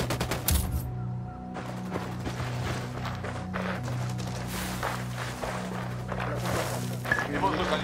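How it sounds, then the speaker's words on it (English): Gunfire in Ghost Recon Wildlands: rapid rifle bursts and scattered shots crackle throughout, close and steady over a low engine hum, with voices talking in the background. "Opening fire."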